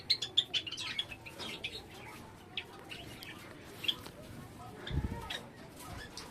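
Java sparrows chirp in quick, high-pitched bursts, several calls overlapping near the start, with softer scattered tweets and faint rustling later.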